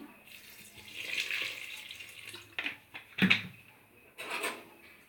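Cold water is poured into a green gram and jaggery drink mixture in a kitchen, a close trickling pour with a few clinks and splashes.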